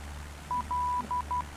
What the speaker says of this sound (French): je vais arrêter le morse, la balise morse, parce que ça nous casse les bonbons